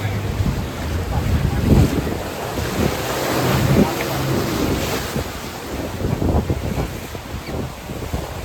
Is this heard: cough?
no